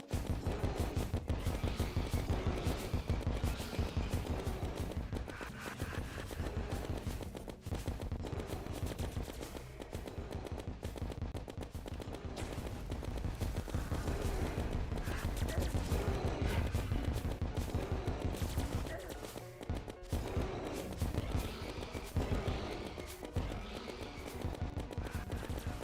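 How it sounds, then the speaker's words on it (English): Rapid, dense bursts of rocket fire and explosions from the snowman cannon launching Nova rockets in Terraria, a continuous loud barrage that runs almost unbroken across the whole stretch. "the Nova rockets with this snowman cannon are actually kind of busted"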